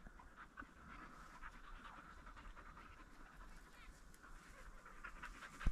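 A dog pants steadily and close by, a quick, even breathing rhythm that runs without a break for several seconds before ending in a brief louder knock.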